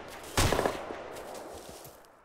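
A single sharp rifle round impact cracks out loudly, then trails off in a fading rumble over a couple of seconds, with no other shots following.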